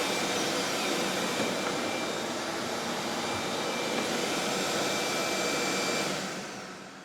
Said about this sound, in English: the vacuum kicks on.